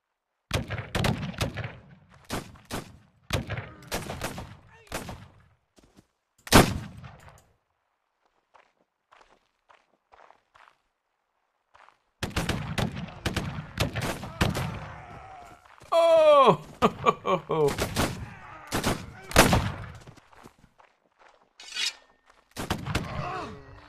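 Gunfire in the pirate video game Caribbean!, with sharp shots and thuds in bursts separated by a long near-silent gap, plus brief whooshing effects and a few short vocal sounds.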